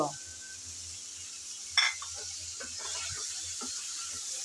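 Chopped tomato tipped into teasel gourd frying in a pan and stirred, a soft steady sizzle with one sharp clink of utensil on pan and faint scraping, quiet throughout.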